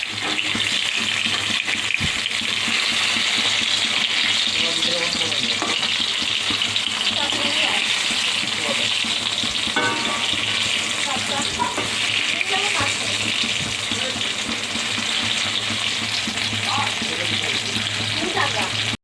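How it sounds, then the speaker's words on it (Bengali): Eggplant slices frying in hot oil in a wok make a loud, dense, continuous sizzle up close. The crackle runs steadily for the whole stretch, with occasional stirring noises. "বন্ধুরা কড়াইয়ে তেল দিয়ে দেওয়া হয়েছে,"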